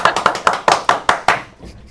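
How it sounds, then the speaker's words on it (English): Sharp hand claps in a quick regular series of about seven, close and loud in a quiet room, the last few fading, no talk. "that was the first clap that we've ever done"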